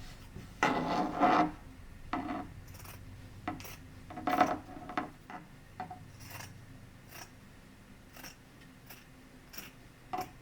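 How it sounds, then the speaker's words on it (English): Scissors snip through excess quilt fabric in a series of short, close cuts, a few louder crunchy snips early on followed by lighter intermittent clips, with no talking. "There is a little excess material on this end, so I'm going to cut it off"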